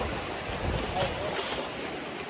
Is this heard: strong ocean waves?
yes